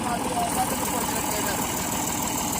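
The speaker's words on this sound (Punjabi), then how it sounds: "ਹੋਵੇ ਜੀ ਟਰੈਕਟਰ ਫਸ ਗਏ ਨੇ ਜੀ।" Tractor engines idle with a steady low rumble while the tractors sit stuck in mud, the throbbing continuous and fairly loud throughout, with people talking over it.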